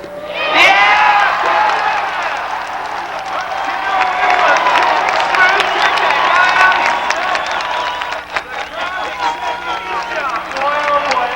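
A large crowd at the 1993 Race of Champions cheers and applauds a motorcycle jump, a loud sustained roar with shouts and claps, while an announcer talks over it.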